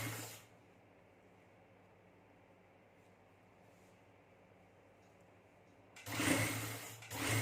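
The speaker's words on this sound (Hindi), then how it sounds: "बिल्कुल किनारे पे सिलाई लगाएंगे और सिलाई खींच के नहीं लगाएंगे" A sewing machine stitching along the very edge of a trouser hem, in two short, loud mechanical whirring runs at the start and end, separated by quiet room noise.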